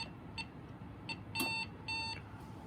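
A Safe House 49-485 alarm system keypad gives a run of short electronic beeps while being reset, four or five quick tones at irregular spacing. They sound faint and close against a quiet hum.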